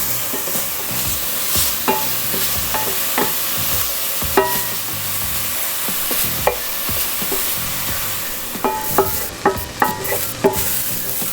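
Onions fry in hamburger grease in a pan, a steady close sizzle broken by sharp clicks and taps of a utensil against the pan, more frequent toward the end, with no talk.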